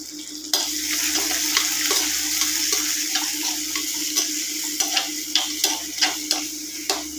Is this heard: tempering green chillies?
yes